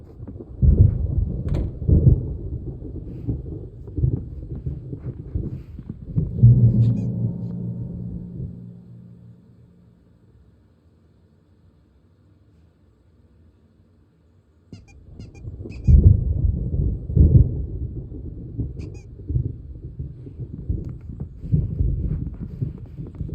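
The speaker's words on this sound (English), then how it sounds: "There's a storm coming. Oh, what a storm." Deep rolling thunder from an approaching storm in the video game Alan Wake Remastered, heavy rumbling that swells, fades into near silence for several seconds, then rolls back in loudly.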